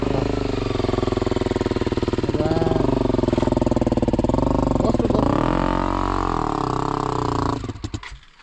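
A Honda CRF 300L or XPulse dirt bike engine pulls in first gear on a rough mountain trail, a loud, steady close-up drone with pitch rising and shifting midway before cutting off near the end.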